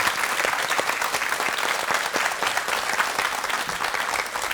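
A studio audience on a KBS morning show claps for an arriving lecturer on wealth, giving loud, sustained, even applause with no voices over it.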